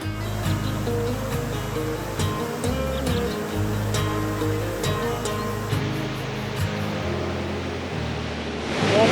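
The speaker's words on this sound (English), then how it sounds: "Waterfall number 2." A waterfall in the humid Mindo cloud forest of Ecuador gives a steady, broadband rushing roar that stays fairly constant throughout, with a low rumbling undertone and no voices.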